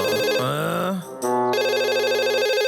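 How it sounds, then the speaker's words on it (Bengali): Cartoon phone ringing in a Bengali Bablu Dablu animation: a loud, bright electronic ringtone melody plays, breaks off for a moment, then resumes as a steady sustained ring. "কি জোরে ফোন বাজতাছে।"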